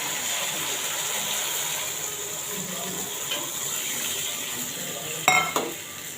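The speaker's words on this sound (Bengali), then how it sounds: "এবার একটু জল দিয়ে দেবো।" Water poured into a pan of sizzling fish curry with white and black sesame, a steady frying hiss with faint stirring and a sharp clatter of utensils near the end.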